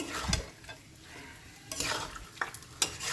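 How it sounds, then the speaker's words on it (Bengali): Beef with bones is stirred in a frying pan while it sizzles: scraping, clattering stirs come in separate bursts over a steady hiss of hot oil, close and clear with no talk. "এবার চলুন আমি একবার মাংসটাকে লেড়ে দেবো"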